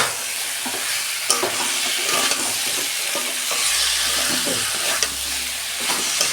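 Flat beans sauté in a pan with oil and a little sugar: a continuous frying sizzle broken by repeated scraping clicks of a spatula stirring through the pan.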